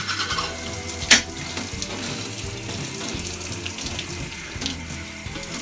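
Tap water runs steadily from a faucet into a sink while a beard is wetted, a continuous close splashing hiss with a brief sharper splash early on and no talking.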